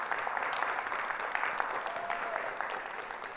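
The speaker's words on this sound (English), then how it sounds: "Give him a round of applause" An audience claps in a steady burst of applause, a dense crowd patter filling the whole moment, fairly close and even in loudness.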